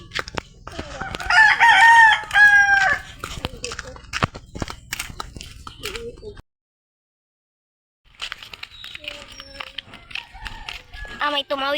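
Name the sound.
chicken crowing and clucking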